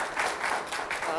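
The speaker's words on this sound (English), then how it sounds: "Let's do a round of applause." An audience at a Toronto talk event gives a brief burst of steady clapping, moderately loud and continuous, as a presentation wraps up.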